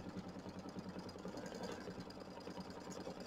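An embroidery machine stitching a decorative open stitch on a quilt block, a fast, even mechanical needle chatter running steadily and faintly throughout.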